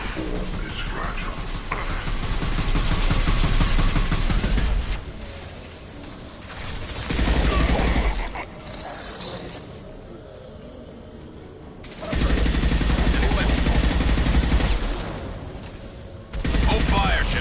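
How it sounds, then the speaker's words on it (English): Heavy weapon fire in Mass Effect 2 comes in loud, dense bursts separated by quieter gaps, with clattering mechanical sounds and a voice speaking in the lulls. "Firing a high-impact shot."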